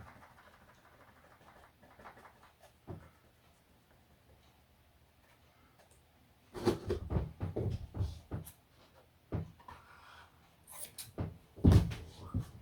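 Several crisp snipping cuts from sharpened scissors cutting light 25-gram glass cloth, close and sharp, come in quick irregular bursts after a quiet stretch, with a few softer rustles between them.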